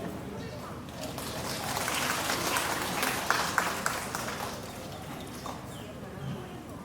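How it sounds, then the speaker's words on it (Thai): Applause from the audience at a Buddhist seminar honouring Phra Ajahn Mun Bhuridatto's 150th birth anniversary swells into a dense, sustained clapping roar, with a few sharper claps standing out and voices talking through it. "เสียงปรบมือดังอีกครั้งหนึ่งด้วยครับ"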